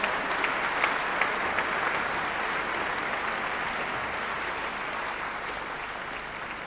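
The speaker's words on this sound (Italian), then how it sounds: "chiamiamo il maestro Stefano Coppo sul podio con un ultimo applauso" An audience applauds conductor Stefano Coppo at a Santa Barbara 2004 outdoor concert by the fire brigade's Antica Musica Corpo Pompieri band, sustained crowd clapping with a few sharper individual claps early on, slowly easing toward the end.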